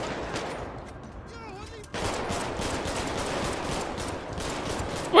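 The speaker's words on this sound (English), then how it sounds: "why am I shooting with this when I got the AR" Rapid bursts of game gunfire from a GTA 5 police patrol firefight with the LSPDFR mod, a dense crackling barrage after a brief lull, loud and continuous with a voice faintly mixed in.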